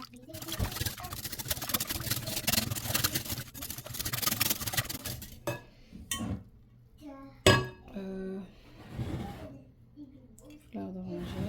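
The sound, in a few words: mixing ingredients with sugar in a bowl for Algerian khobz dar bread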